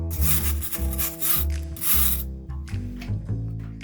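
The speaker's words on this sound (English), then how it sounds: "And we're going to start scrubbing." A hand scrubber rubs back and forth across a wet, moldy basement wall with antiseptic cleanser, giving loud, close, rhythmic grinding strokes in uneven bursts with no talking.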